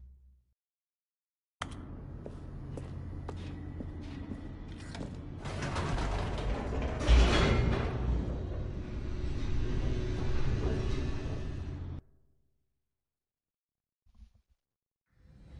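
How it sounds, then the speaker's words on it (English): Elevator descending in The Stanley Parable: a sustained low mechanical rumble with creaking and grinding that builds toward a heavy jolt midway, then cuts off abruptly, followed by near silence and a faint thud. "The elevator raced downward, plummeting towards an unknown fate."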